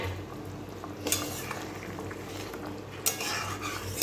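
Fish and brinjal tipped into a hot pan, with two sharp bursts of clatter followed by steady stirring and a soft frying hiss underneath, close and moderately loud.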